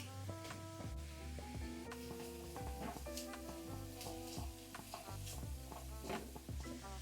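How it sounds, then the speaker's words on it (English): Bell pepper, celery and onion sizzle in a pan while a utensil stirs and scrapes them in an irregular rhythm, close and steady with no voices. "add in your bell pepper, celery, and onion. Let this cook for at least 5 minutes"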